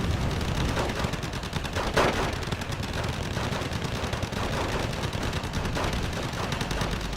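Infantry gunfire in the modern-war strategy game Wargame: Red Dragon, a constant crackle of rifle and machine-gun bursts with a sharper volley near the two-second mark, held at a steady mid-distance level.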